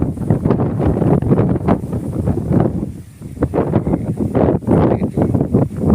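Strong wind roars across a harvested rice field where straw is being burned, a loud, continuous buffeting rush with gusts, a brief lull midway, and rustling throughout.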